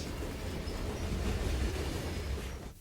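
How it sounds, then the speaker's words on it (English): Three SD9 and two GP9 diesel locomotives rumble steadily pulling a Southern Pacific freight train near a Sacramento river bridge, a deep continuous drone with faint wheel noise, fading abruptly at the end. "Pulling the train are 3 SD9s and 2 Geep 9s."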